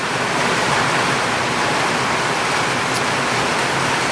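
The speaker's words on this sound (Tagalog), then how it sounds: "Grabe ang lakas ng ulan. Buhos na buhos yung ulan dito" Dense, steady roar of heavy rain pouring down, a constant loud hiss with no pauses and no voices.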